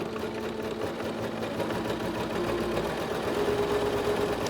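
A SINGER SEWMATE 5400 sewing machine stitching the top seam of a zipper, with a steady, close, continuous mechanical whir and hum and no talking.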